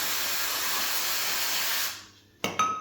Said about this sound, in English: get your activator on, spray the other surface.